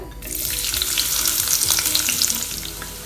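Sliced shallots frying in hot coconut oil for a Kerala-style fish curry, a loud continuous crackling sizzle with stirring scrapes, close up and with no talking.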